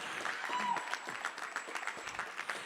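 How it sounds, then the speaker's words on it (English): Faint applause from a panel-event audience clapping for themselves, a steady patter of scattered claps with some voices mixed in. "I want you to applaud yourselves"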